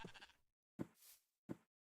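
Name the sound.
sheep bleating in Minecraft video game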